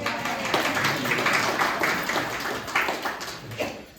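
A lecture-recital audience gives warm applause, a steady, moderately loud patter of many hands that carries on for a few seconds before thinning out.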